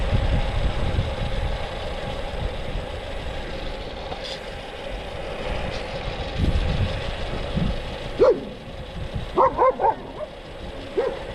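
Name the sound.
dog barking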